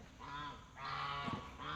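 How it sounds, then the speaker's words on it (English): Several geese honk loudly in repeated nasal bursts, close by, with overlapping calls and no talking. "if you want to have some noisy geese"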